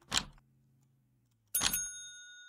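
A reception desk bell in the Hotel Business Simulator game rings twice, each a sharp metallic ding with a lingering ring, the second louder and sustained, close with no talk.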